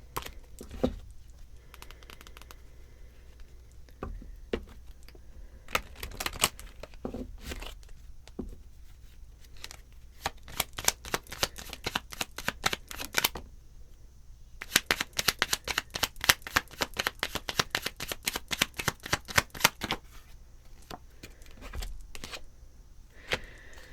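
Tarot deck shuffled by hand, a rapid crisp riffle of flicking cards in several bursts, with quiet pauses between and longer runs near the end, close and clear with no talking.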